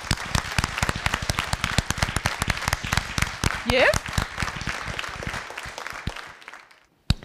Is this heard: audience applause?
yes